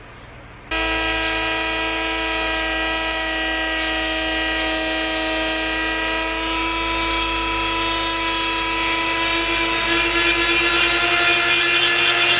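A rotary tool bit whines steadily as it carves into a wooden shovel handle, a loud sustained high-pitched tone with strong harmonics that starts abruptly and holds for the whole stretch.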